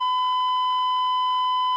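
A steady censor bleep, a pure electronic tone held unbroken for almost two seconds at moderate loudness, standing alone with no speech over it.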